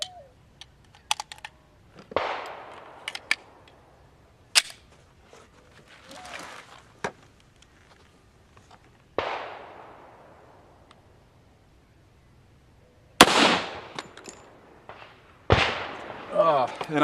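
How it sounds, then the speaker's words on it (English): A Federal Hydra-Shok 230 grain .45 ACP hollow point fired from an FNP 45 Tactical pistol into a clay block: several sharp, loud reports, each with a short decaying tail, spread apart with quieter handling sounds between. "This is the Federal Hydra-Shok 230 grain hollow point bullet, shot out of an FNP 45 Tactical."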